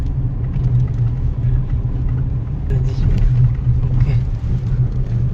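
A car moves slowly at low speed during a driving lesson, giving a steady low engine hum and road rumble. The sound is continuous and close, with a light rattle and soft talk in the cabin.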